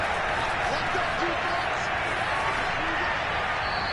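Stadium crowd at an NFL game gives a broad, steady wash of applause and murmuring cheers, dense and continuous throughout, with a broadcaster's voice faintly underneath.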